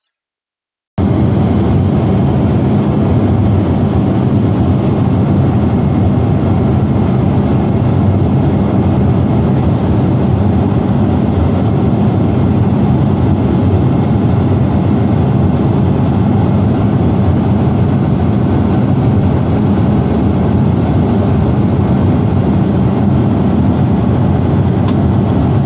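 Inside the cabin of a Cathay Pacific Boeing 777-300ER during takeoff, a loud steady engine roar and rushing air rumble continue without a break after a short silent start.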